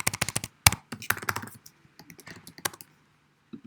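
Fast typing on a computer keyboard: a quick run of crisp, close key clicks, a sharper thump, then sparser taps trailing off to a couple of last strokes.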